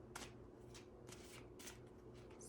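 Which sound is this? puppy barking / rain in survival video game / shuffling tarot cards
shuffling tarot cards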